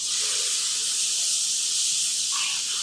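Egg-soaked bread for French toast sizzling in a hot pan, a steady, bright frying hiss that holds close and even throughout with no talking.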